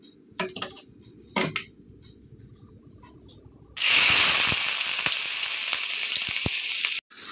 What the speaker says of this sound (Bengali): গরম হয়ে গিয়েছে, দিয়ে দেবো কুচিয়ে রাখা পেঁয়াজ আর কাঁচা লঙ্কা।